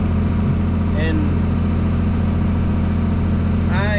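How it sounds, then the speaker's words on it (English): A tractor engine running slow at low revs during fine grading with a pan, a steady low drone under continuous talk. "I ain't got the tractor revved all the way open. I'm just going slow and taking my time."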